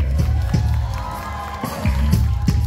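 An outdoor crowd at a food festival showcase cheers and whoops, with a few scattered claps, all heard loud and close throughout.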